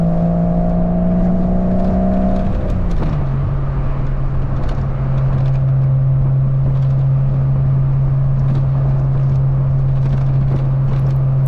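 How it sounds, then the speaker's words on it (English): A Porsche 986 Boxster with a cat-back exhaust drives with a steady, loud engine drone; the pitch drops once early as it shifts, and a loose clip-on GoPro mount adds faint, scattered rattling. "Can really hear the rattle from that clip-on GoPro mount"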